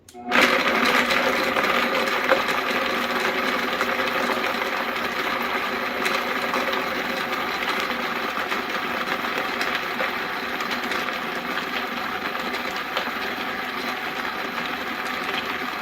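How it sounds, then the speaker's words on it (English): A blender blends soaked cashews steadily nearby, a continuous whirring motor that stays even throughout with no voices. "you just put it in the blender and you blend it up to a nice creamy consistency."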